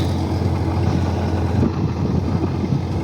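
A motorized plough tills a garden bed, turning soil for pumpkins: a steady, loud low engine drone runs continuously close by with rough, churning texture and no speech.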